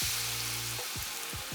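Squash pieces fry in hot oil for tempura, a loud, dense, continuous sizzle heard up close, with a low hum fading out partway through.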